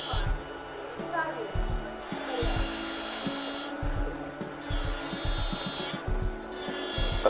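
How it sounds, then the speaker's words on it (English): A dental burr trims the margin of a stone die with a high, steady whine in repeated bursts, over a faint grinding rub and a low rhythmic background tone. "We slowly engage the burr, remaining all the while at least 2 millimeters below the free gingival margin."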